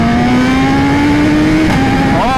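BMW S1000RR sport motorcycle with an Akrapovic exhaust accelerating hard on a twisty road, a loud close engine note climbing steadily in pitch before an upshift dip near the end.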